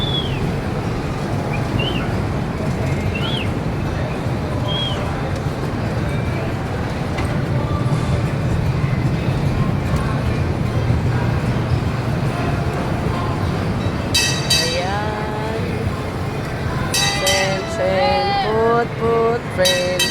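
A train rumbles steadily close by for about twenty seconds, a continuous low rolling roar, while birds chirp and whistle faintly toward the end.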